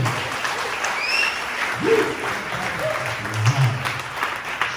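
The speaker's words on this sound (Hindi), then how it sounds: "जोर से ताली हो।" A church congregation claps loudly and continuously, with scattered voices and calls rising over the dense applause.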